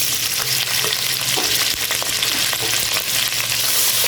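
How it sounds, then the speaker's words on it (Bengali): Chopped onions fry in a pan with whole spices such as cloves, black peppercorns, cinnamon sticks and bay leaves, giving a steady, loud, close sizzle broken by brief stirring scrapes throughout, with no talking. "এখন এটাকে একটু ভাজবো"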